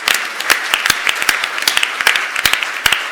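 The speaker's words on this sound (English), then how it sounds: "just a big round of applause to thank you" A room of attendees at a climate action event applauds, a steady bed of clapping with several sharp, close, individual claps standing out above the rest.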